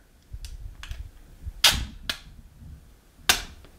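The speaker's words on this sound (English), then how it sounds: "the case will now just pop right open, just like that, staying connected with the sticker from the bottom over here" A plastic iPod Touch 5G display case pops open after its tab is pulled, with sharp plastic snaps and clicks, two of them loud and close, spaced apart over faint handling.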